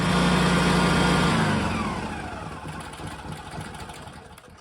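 The Honda GX670 engine of a motor pump runs loudly up close, then is cut off and its steady drone winds down to a fading rumble.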